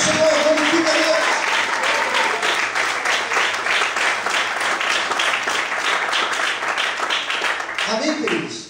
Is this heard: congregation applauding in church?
yes